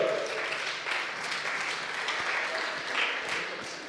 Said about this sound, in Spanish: un aplauso para Emanuel